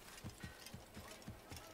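Horse hooves clip-clop in the Assassin's Creed video game, an even run of about seven distinct hoof strikes in a steady walking rhythm, soft and moderately close.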